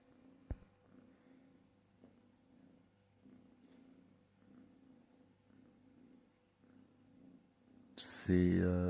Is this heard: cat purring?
yes